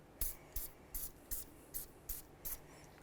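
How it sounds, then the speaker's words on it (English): Seven short, evenly spaced hisses of penetrant spray hit the screws of a rear brake rotor on a 2011-2016 Hyundai Elantra, each burst quick and close with brief pauses between. "once you spray it down with some penetrant"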